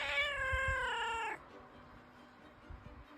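Cat giving one long, loud, drawn-out meow at close range, rising and falling in pitch for over a second before it stops, followed by quiet room noise and a few soft thumps.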